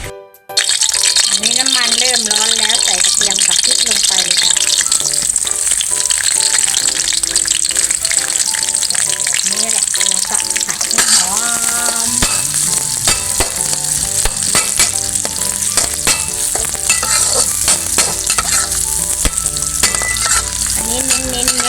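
Chili, garlic and minced pork stir-fry in a pan, with a loud, constant sizzle and clattering stirring close up, while someone talks over it for much of the time.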